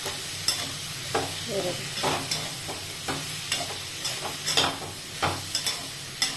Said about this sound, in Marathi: हिंग टाकते आणि छान असं मिसळून घेते